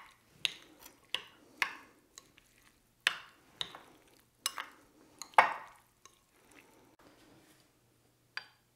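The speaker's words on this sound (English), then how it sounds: "I'm going to just mix everything together thoroughly so we can let those flavors start to blend" Olive tapenade ingredients being mixed together by hand, with a series of sharp, irregular scraping and clicking strokes close by, separated by short quiet gaps, and no talking.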